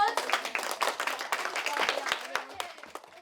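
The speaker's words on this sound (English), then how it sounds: "Give yourselves a round of applause." A group of boys and girls clap together in a short round of applause at close range, the claps dense and scattered, with light voices mixed in before it thins out.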